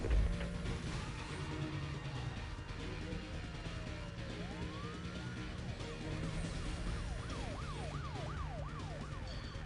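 Police car sirens wail at a roadblock in the racing game Need for Speed Most Wanted, rising and falling in repeated sweeps over a steady engine rumble and road noise throughout.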